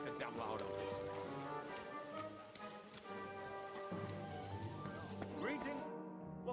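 Horse hooves clip-clop in the medieval video game Kingdom Come: Deliverance II, a steady run of beats under a speaking voice and tonal game sound that cuts off abruptly near the end.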